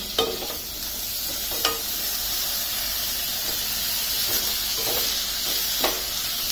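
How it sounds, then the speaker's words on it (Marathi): Moth beans (matki) for Kolhapuri misal hit hot oil in a pan with a steady close sizzle and hiss, punctuated by a few sharp stirring scrapes. "आणि मी आता ही मटकी ऍड करते।"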